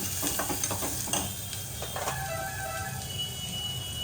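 Hot oil sizzling steadily in a pan as a tempering of mustard seeds, cumin, curry leaves, asafoetida, onions and tomatoes cooks, with a few stirring clicks early on, close and continuous with no talking.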